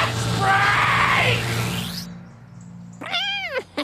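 A cartoon cat gives a long, loud, wavering yowl, then a short break, and then a shorter, higher meow right up close.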